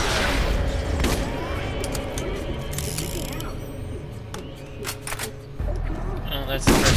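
Grenade blasts and bursts of gunfire in the shooter game Borderlands, a dense run of sharp clicks and bangs over a steady game soundscape, with a heavier thump near the end and a voice talking over it.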